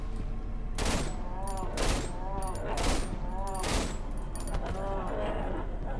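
Gunfire in the horror video game Cry of Fear: several loud, sharp shots land roughly once a second over a low droning game soundscape with distorted groaning tones in between.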